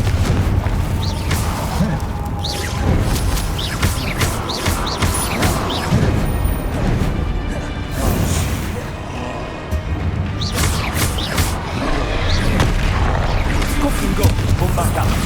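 Repeated spell-blast explosions from a Harry Potter video game, Confringo fire bursts, booming and crashing in dense succession with loud layered game effects and music throughout, and a voice calling spell names over them.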